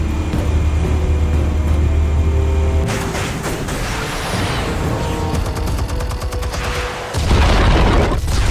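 Explosives detonate in Batman: The Telltale Series, a loud broadband eruption crashing in and churning for several seconds before a deep, heavy boom lands near the end, with no talking.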